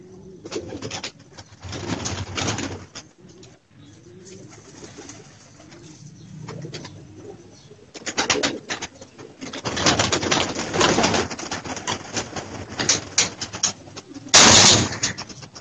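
Pigeons coo in repeated soft low bursts, near and fairly loud, clustered in several runs with brief quiet gaps and a sharper high chirp late on.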